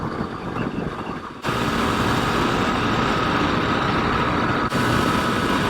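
A small motorcycle overtaking a vehicle on a highway, with a steady engine drone and wind roar that jumps abruptly louder and holds at a sustained, dense level.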